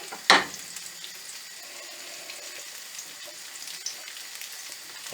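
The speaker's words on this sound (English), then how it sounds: "just letting it sizzle away" Steady close sizzling and crackling of oil in a frying pan for chicken with pine nuts, with a sharp burst near the start, then a constant hiss with no talking.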